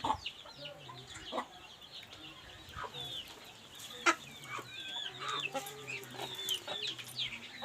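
Long-tailed, short-beaked hens cluck steadily at close range, with scattered sharp clucks, chirps and squawks overlapping in a busy, continuous farmyard chorus.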